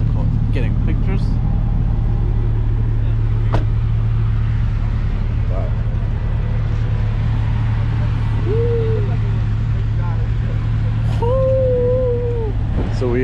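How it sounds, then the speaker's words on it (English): Steady low engine drone and road rumble from a Dodge Charger being driven at night, loud and continuous throughout, with faint whining tones and light background voices over the top. "I'm currently driving the Charger and whatnot"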